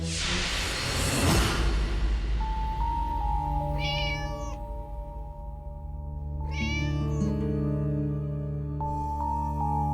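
A quick whoosh, then two drawn-out cat meows a few seconds apart over a steady low background hum.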